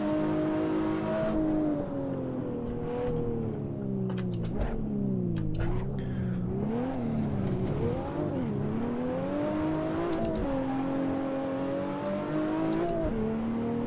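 A BMW 1M Stage 3 car driving hard on a hillclimb course, its engine droning loud and close throughout, the pitch rising and dipping with gear changes and throttle lifts, and occasional clicks and bumps from the car.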